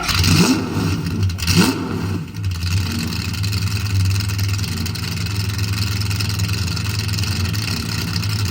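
A Lamborghini supercar engine blips twice in quick, loud revs at close range, then settles into a steady, throaty idle rumble.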